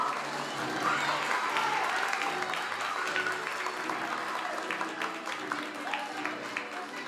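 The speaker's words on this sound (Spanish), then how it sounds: "El aplauso para ella." Families at a school graduation celebration for a sixth-grade class clap for a student, a faint but continuous patter of applause with crowd murmur and occasional voices underneath.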